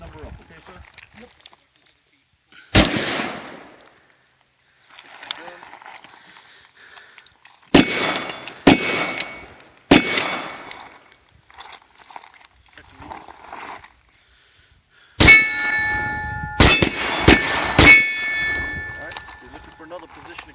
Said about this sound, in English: you fire one round from each position